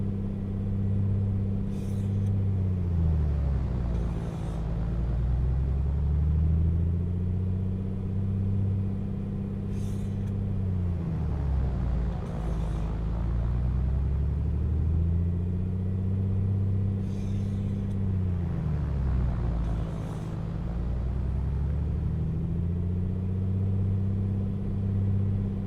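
Steady droning piston engine of a Piper Comanche light aircraft in Microsoft Flight Simulator, holding at 1800 RPM during a runup check, with slow periodic swells in its low hum and no talking.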